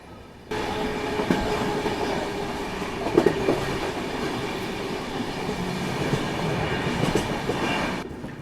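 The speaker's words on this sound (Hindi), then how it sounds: "यहाँ अपनी ट्रेन अब पहुँच रही है धीरे धीरे मैहर रेलवे स्टेशन" An Ahmedabad-Gorakhpur Express train crawling slowly into Maihar railway station, with a steady close rumble, clickety-clack of wheels over rail joints and faint squeals and clanks throughout, no voices.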